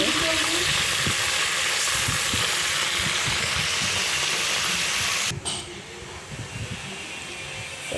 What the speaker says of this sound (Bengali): সেইভাবে সব কটা ভেজে নিচ্ছি হয়ে গেছে আর একটি দিচ্ছি মাছগুলো